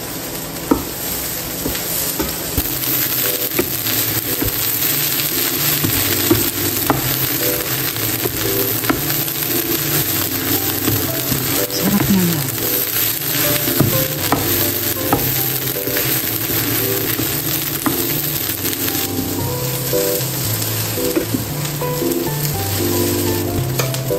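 Spam fried rice sizzles steadily in a hot pan for about twenty-four seconds, with a utensil scraping and tapping the pan now and then as the rice is stirred close by.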